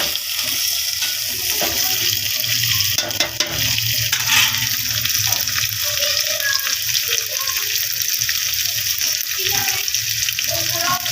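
Chicken liver and peas frying and being stirred in a hot pan: a steady, loud sizzle that runs unbroken throughout, with faint clinks of a spoon against the pan.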